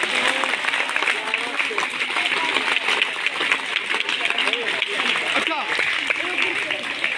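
An audience applauds a school's teachers with a sustained wash of clapping that runs throughout, while a voice talks over the clapping.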